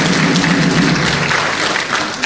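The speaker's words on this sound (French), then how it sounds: "je vous demande d'applaudir nos 2 champions" A crowd applauds two football champions at a tournament draw ceremony, dense continuous clapping that stays loud throughout.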